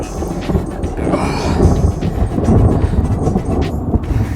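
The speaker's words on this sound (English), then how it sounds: "In case you didn't realise, we're in the middle of a storm" A thunderstorm rumbles over a carp fishing lake, deep low rolling thunder swelling and fading in long waves alongside rain noise, loud and close, with no talking.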